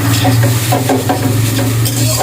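Noodles being stirred in a frying pan, with a loud, steady sizzle and soft scraping strokes repeating close by.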